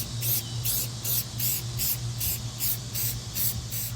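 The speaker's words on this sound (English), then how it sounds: "gonna spray paint the primer on and do it" A spray can lays primer onto a garden statue made from recycled old pots and garden tools, in a run of short, even hissing bursts at a steady pulse, close and alone.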